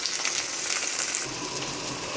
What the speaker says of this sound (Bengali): দিয়ে দিচ্ছি আলুগুলো আমি পেঁয়াজের সঙ্গে ভেজে নেব।